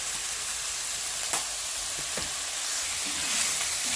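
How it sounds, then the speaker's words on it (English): Chopped onion, carrot and celery sauté in a pan for a Bolognese meat sauce, giving a steady close sizzle with a few light scrapes and clicks of stirring throughout. "just saute it until the vegetables start becoming soft"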